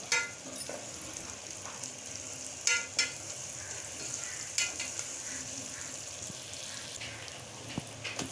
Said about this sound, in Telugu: కరివేపాకు పచ్చిమిరపకాయలు వేసుకుని వేయించుకోవాలి